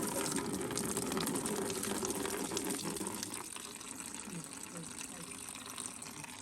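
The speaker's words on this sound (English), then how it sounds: "Time to drain the antifreeze." Antifreeze runs out of a Polaris Sportsman ATV during a water pump seal job, a steady gushing pour of liquid that is strong at first and then eases to a softer, continuous trickle partway through.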